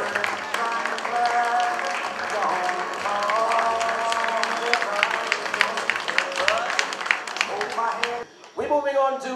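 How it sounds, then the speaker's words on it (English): Audience at the St. Lucia Industrial and Small Business Awards 2018 applauds the Shoemaker of the Year winner, steady clapping mixed with music and talk, breaking off briefly near the end. "Round of applause, ladies and gentlemen, for Melshar James, Shoemaker of the Year."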